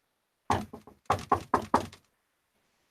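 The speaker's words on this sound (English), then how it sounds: "Yeah, I'm gonna knock on the door. You knock a few times" About seven sharp knocks on a hard surface stand in for a door knock during a Dragon Age tabletop roleplay session. They come in a quick cluster of three and then a firmer run of four, close by with no talking.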